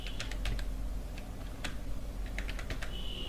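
A password is tapped out on a computer keyboard in a run of quick, uneven keystrokes, close and clear over a low steady hum, with no talking.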